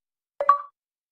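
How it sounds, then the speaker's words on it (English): A short, bright electronic chime: a quick two-part blip that lasts well under a second, then silence. It is the Xbox achievement unlock notification. "that's the sound of someone popping an achievement on the Xbox"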